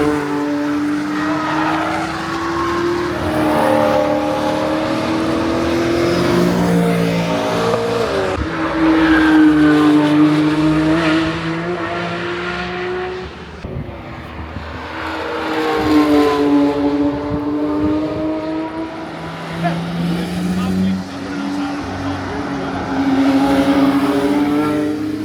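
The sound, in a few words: Porsche GT3 and 968 lapping the Nürburgring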